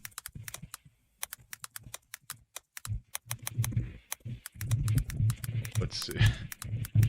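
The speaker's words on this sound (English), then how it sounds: "So this is him right now typing and saying what he's saying in his description." Keys on a computer keyboard are tapped in quick, irregular bursts with brief pauses, close and crisp, while faint voices murmur underneath toward the end.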